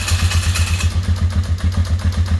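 An engine runs with a steady, rapid pulsing chug just after starting up, close and loud with no talk, the ignition kill switch having been bypassed.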